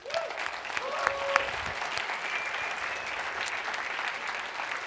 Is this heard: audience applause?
yes